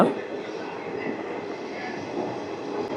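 The Rayagada-Guntur Express stands at platform two of Gummida station, a steady low rumble of train and carriage noise filling the platform while faint voices sound in the background.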